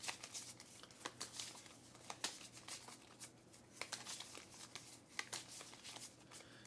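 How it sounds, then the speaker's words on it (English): A deck of Cthulhu: Dark Providence cultist behavior cards being shuffled on a table, giving quiet, repeated riffling snaps and crisp card flicks in an irregular rhythm with no talking. "So let's shuffle these up to make a deck."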